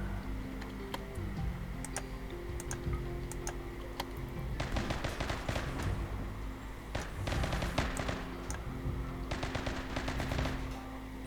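Rapid gunfire bursts from the Rimworld video game, sharp clustered shots crackling in loud volleys over a steady low musical drone, with quieter single pops at the start.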